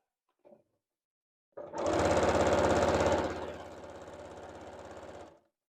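A sewing machine stitches the serged edge of a qaspeq vest, starting after a brief click, running loud and steady for about two seconds, then continuing at a slightly lower, even hum until it stops.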